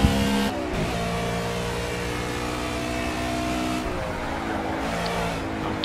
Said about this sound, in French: Ici on voit la réaccélération dans la petite courbe, la voiture qui nous emmène clairement au large